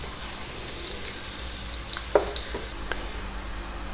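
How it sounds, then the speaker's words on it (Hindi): Onions fry in oil toward light golden brown, giving a loud, even, continuous sizzle with a couple of soft utensil taps partway through. "ये सबसे पहले इसमें ऑयल डालेंगे। फिर इसमें ये प्याज, इनको गोल्डन ब्राउन करना है हमने,"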